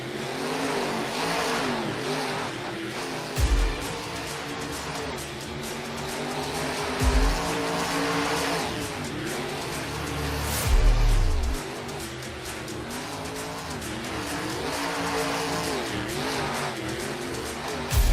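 Race cars at the Carnage Tour event in Liwa, Abu Dhabi, UAE, with loud, steady engine roar and revving, thumping surges and tire squeal, close and continuous.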